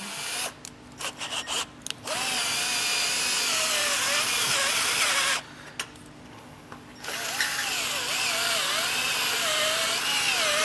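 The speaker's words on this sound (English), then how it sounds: "with the burr bit, I'm going to go ahead and just kind of grind this out." A burr bit on a power drill grinds out metal on a 2023 Jeep Wrangler bumper, a steady high whirring grind with pitch wobbles, broken by a few short stops and restarts, no talking.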